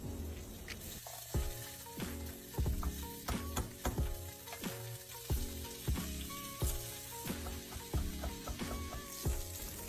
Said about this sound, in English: In a pot, I'm going to sear the meat